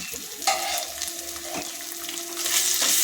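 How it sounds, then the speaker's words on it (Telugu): Chicken masala and garam masala sizzle steadily in a pan for a jackfruit-seed veg curry, a close, continuous hiss and crackle with occasional stirring scrapes, growing slightly louder toward the end. "ఈ మసాలాను కొంచెం వేగనివ్వాలి."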